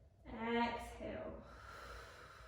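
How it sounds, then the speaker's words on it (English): A slow exhale in a yoga flow warm-up opening into the hips: a single soft, breathy release of air close by, fading gradually over a couple of seconds, with quiet room tone behind. "exhale"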